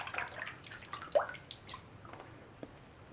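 Water is stirred and swished gently in a basin to hand wash a knitted garment, with soft, faint splashes and drips close by.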